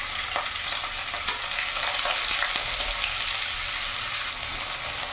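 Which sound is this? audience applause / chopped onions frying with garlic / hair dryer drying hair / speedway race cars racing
chopped onions frying with garlic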